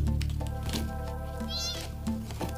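A young kitten meows in a few short, clear, high-pitched cries close by, standing out alone over a faint background.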